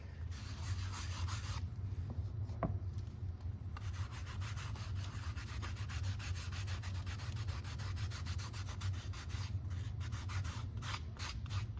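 A scrap of denim rubbing dye onto leather, a steady close rasping friction made of rapid back-and-forth strokes that runs without a break.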